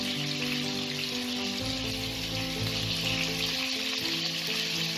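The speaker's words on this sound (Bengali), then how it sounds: "এই আলুগুলোকে আমি ভেজে নেব।" Whole potatoes frying in hot oil with a pinch of salt, a steady close sizzle and crackle that holds throughout, with a low rumble from the pan underneath.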